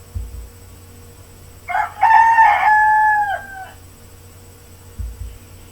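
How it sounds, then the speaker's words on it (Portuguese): A rooster crows once, a single clear, loud cock-a-doodle-doo rising and holding for about two seconds over a low steady hum, with brief thumps before and after. "O próximo animal é o galo."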